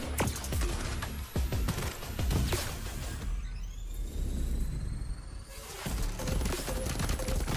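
Rapid bursts of gunfire from a video game trailer, with dense crackling volleys and rumbling that drop away in the middle before returning loud and continuous.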